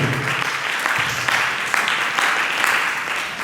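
A church congregation at an Easter seminar applauds to acclaim the Lord, with dense, continuous clapping from many hands that is loud and sustained from start to finish.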